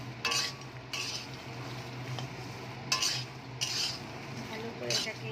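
Makhana (fox nuts) being fried and stirred in a pan, with a soft continuous sizzle under repeated scraping strokes of a spoon against the metal, about five distinct stirs, close and fairly quiet.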